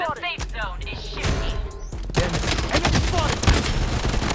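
Gunfire rings out in the shooter video game Blood Strike as rapid, loud bursts of shots. A voice talks briefly at the start before the shooting takes over.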